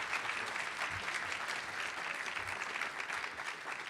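At a closing session of a national strategy meeting, an audience gives a warm round of applause for the Utah Attorney General. The clapping is dense and even, continuous and moderately loud throughout.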